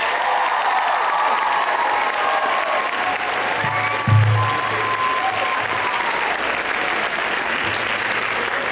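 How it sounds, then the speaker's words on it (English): A large audience at a 2016 awards or conference event gives a warm, sustained round of applause, dense and even from start to finish with a brief louder swell near the middle. "A warm round of applause to our great co-chairs."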